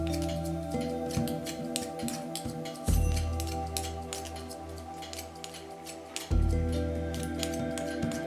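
Thin, repeated snips of fine thinning scissors working through hair at close range, crisp clicks scattered over steady low background hum with no talk.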